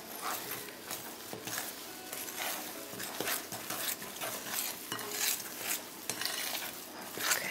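Batter for a chocolate mix is stirred by hand in a bowl, with a steady run of soft scraping, sloshing strokes and occasional light clinks of the utensil against the side, close and moderately quiet.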